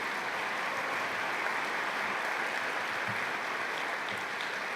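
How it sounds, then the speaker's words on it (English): An audience at a keynote awards event applauds steadily, a dense continuous clapping at moderate level throughout with no talk over it. "Now applause."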